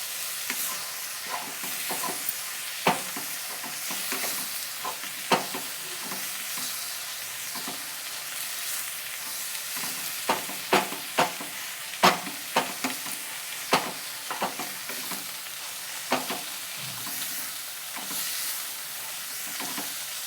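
Food frying in a pan with a little turmeric just added, a steady sizzle punctuated by irregular sharp scrapes and knocks of a spatula stirring, close up with no talking.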